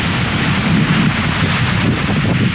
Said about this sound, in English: It's so windy, it's getting on my nerves